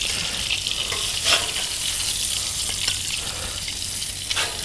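Burgers sizzle on a hot outdoor grill, a steady close frying hiss with brief crackling bursts and no talking.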